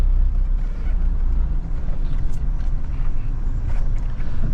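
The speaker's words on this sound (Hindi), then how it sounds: "जो आवाज है ना गाड़ी की, जो आवाज कर रही है ये, वेरी नाइस यार। वो जो प्रॉपर डीजल वाला मजा है," A 2012 Mahindra Scorpio diesel engine running, a loud, close, continuous low rumble with a gritty, steady drone and no talking.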